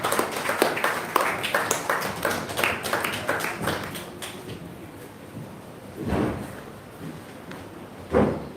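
A graduation ceremony audience claps in a steady patter of applause for a few seconds, then it fades to quiet room noise with a couple of brief bumps.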